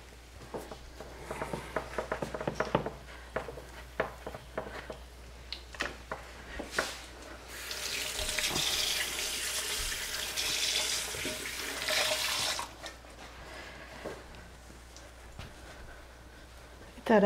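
A kitchen tap runs during doughnut baking, a steady rushing stream for about five seconds in the middle. Scattered clinks and handling knocks come before and after it, with voices in the background.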